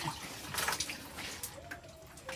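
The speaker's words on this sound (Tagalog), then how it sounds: "Sige, ibubuhos sa ulo, ibubuhos, dali." Water is poured over a person's head, giving a brief, soft splashing and trickling rush over faint background noise.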